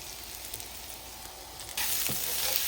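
Capsicum sautéing in olive oil with salt, chili flakes and oregano, a soft continuous sizzle that suddenly grows louder and brighter partway through, alone without talk.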